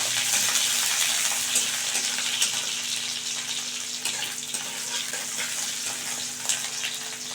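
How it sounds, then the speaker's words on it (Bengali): Chopped onion frying with mashed fish in a pan makes a steady, close sizzle, with the light scrape of stirring running underneath and no voices. "অল্প করে পেঁয়াজ কুচি দিয়ে দিলাম দিয়ে একটু মিশিয়ে দিচ্ছি"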